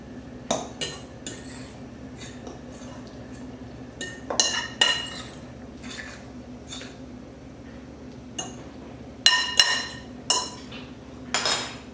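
Tuna casserole ingredients, drained canned peas among them, stirred together in a dish, with a string of clinks and scrapes from a utensil against the dish in irregular bursts, close and fairly quiet with no talk.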